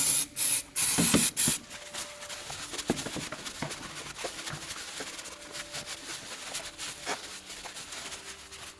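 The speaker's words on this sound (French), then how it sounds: "on va mettre un petit coup de nettoyant franc pour enlever toute l'huile" Brake cleaner sprays onto oily engine parts of a Peugeot 207 1.6 HDI in several close, loud hissing bursts, followed by quieter clinks and tool handling in a workshop.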